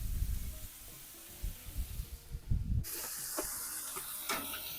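Frozen pre-seasoned Philly steak meat sizzles on a hot Blackstone griddle, a soft hiss under low thumps and handling noise that turns brighter and louder partway through.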